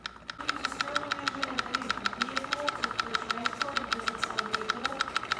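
A Stirling engine runs on a test day with a fast, steady rhythmic ticking pulse and a mid-range mechanical hum, close and continuous throughout.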